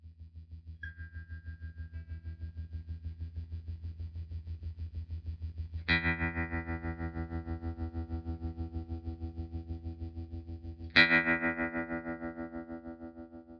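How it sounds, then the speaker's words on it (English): A 1960 Gibson GA-40 tube amp carries an electric guitar, with a sustained low tremolo-pulsed tone and two struck chords ringing out with slight breakup from aged tubes, played alone. "it's already breaking up a little bit. And I think it's the tubes, because there's a slight high frequency distortion"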